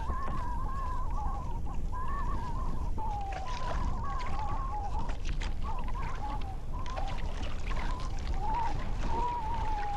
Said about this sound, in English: It is just pushing through the mud.